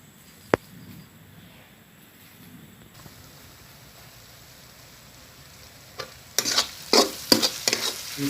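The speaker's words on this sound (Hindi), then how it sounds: "ये करी का पत्ता है। इसको मैं मसाला और लहसुन जो हो रहा है उसमें डालने वाला हूँ स्वादिष्ट के लिए।" Curry leaves dropped into a sizzling mix of garlic and spices: a few seconds of quiet, faint stirring, then loud crackling, spitting bursts in the last two seconds, close up with no talking.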